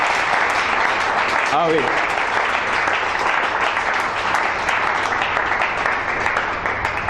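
A church congregation applauds and cheers in praise, dense sustained clapping filling the room throughout, with a brief spoken exclamation near the start.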